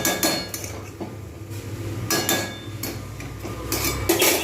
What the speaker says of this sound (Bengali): একটু ঢাকনা দিয়ে দেবো।